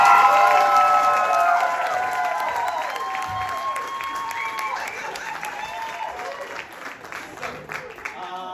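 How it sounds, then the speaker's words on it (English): A crowd applauds loudly with scattered cheers and whoops. The clapping is dense and sustained, then eases off a little toward the end. "We'll give them a round of applause."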